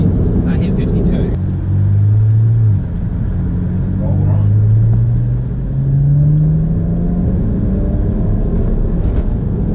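A turbocharged car accelerates hard in third gear from low revs, a deep rumbling engine drone rising steadily in pitch across several pulls, with brief talk at the start.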